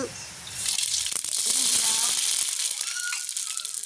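Mustard seeds crackle and pop as they sizzle loudly in hot oil in a village kitchen, a steady close-up hiss throughout.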